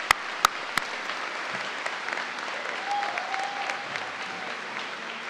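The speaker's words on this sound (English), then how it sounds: "let's just give a round of applause real quickly for the amazing faculty that's here." A commencement ceremony crowd applauds the faculty, a steady patter of clapping heard from a distance, moderately faint and continuous with a few sharp nearby claps at the start.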